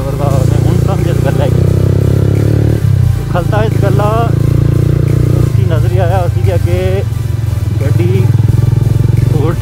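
A motorcycle engine drones steadily on a mountain road trip from Azad Patan to Punjar. Voices with a sing-song quality sit loudly on top of it throughout.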